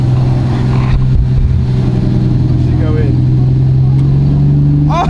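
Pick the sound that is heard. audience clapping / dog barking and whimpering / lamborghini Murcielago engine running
lamborghini Murcielago engine running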